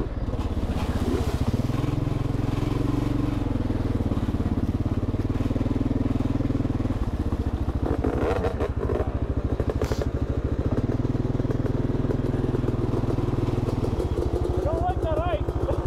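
A Yamaha YZ-250 two-stroke dirt bike engine runs loud and steady throughout, with revving shifts and rattling over rough outdoor ground, and a voice talks faintly beneath it.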